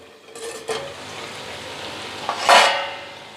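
Chicken curry in a covered pan is stirred with oil sizzling, a close hiss punctuated by a couple of lid or spoon clinks early and a louder scraping stir near the end.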